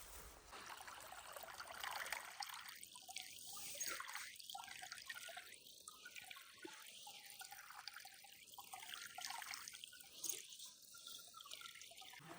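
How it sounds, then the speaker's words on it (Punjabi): Water runs through a ravine stream in forested hills in Punjab, a faint, steady rushing wash with no speech, and a series of repeated higher calls rises above it from distance. "ਗੱਬੇ ਖੱਡ ਚਾ ਪਾਣੀ ਚੱਲ ਰਿਹਾ"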